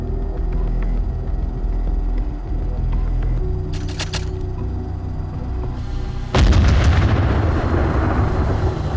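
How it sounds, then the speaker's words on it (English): Mortar rounds fired in the military game Arma 3, with a steady engine-like drone, a brief rattling burst in the middle, then a loud, broad boom that lingers to the end. "Here's an example of using its mortars."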